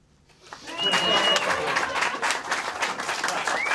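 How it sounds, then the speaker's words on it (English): Party conference audience breaks into applause, swelling from quiet into a dense sustained patter of clapping with a few whoops and cheers rising over it, moderately distant with talk mixed in. "whenever I commend a policy, we need rapturous applause and cheering"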